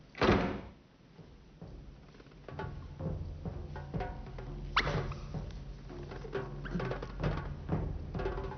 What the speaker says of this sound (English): Would you mind closing the door?